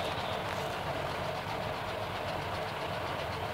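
A locomotive in a train simulator game runs with a faint, steady mechanical rumble and rhythmic knocking, continuous and subdued.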